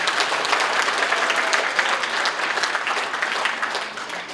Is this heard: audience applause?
yes